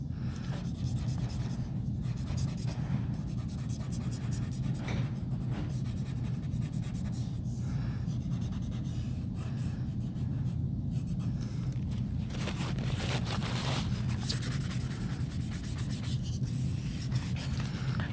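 Graphite pencil shading an eye drawing on paper, a continuous close scratchy rubbing of strokes back and forth, steady and fairly quiet, with no voices.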